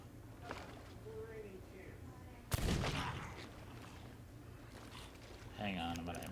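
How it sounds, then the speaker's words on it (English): Blunderbuss shots in the pirate game Sea of Thieves: one sharp, loud boom near the middle with a rumbling tail, and another burst near the end, over steady game noise with voices talking. "That's a blunderbuss."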